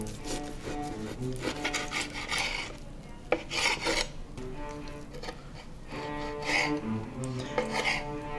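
Knife slicing through a two-pound slab of pork belly on a board, several rasping cuts in short bursts with pauses between, close and clear.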